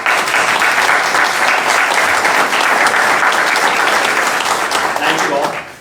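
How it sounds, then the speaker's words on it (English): Audience applause at a mayor and council regular session: loud, steady clapping from a seated crowd that carries on evenly for nearly six seconds before fading at the end. "Let's give them a round of applause."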